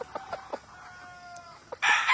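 Chickens at a game farm cluck in a few short calls, then a rooster breaks into a loud, close crow.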